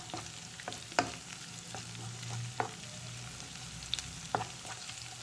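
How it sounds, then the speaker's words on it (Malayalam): Crushed garlic cloves frying in hot oil in a pan while cooking Punjabi chole masala, a soft steady sizzle with occasional sharp clicks and stirring taps, quiet and close. "വെളുത്തുള്ളി അല്ലി, 8 അല്ലി അതും കൂടി നമുക്ക് ചതച്ചത് ഇട്ട് കൊടുക്കാം"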